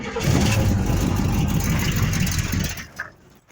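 A 1971 Buick Skylark engine cranks and catches on its first start, running rough and loud with a rumbling, revving roar for about three seconds before cutting off abruptly and dropping to near silence.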